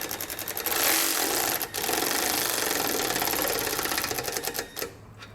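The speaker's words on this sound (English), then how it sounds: "We're using a 19mm socket for our outer bolts, and the 13mm socket for our inner bolt." A power tool fitted with a 19mm or 13mm socket snugs down nerf bar bolts on a 2021 Chevrolet Silverado 1500. It gives a close, loud, continuous rapid rattling run that stops briefly, resumes and then dies away.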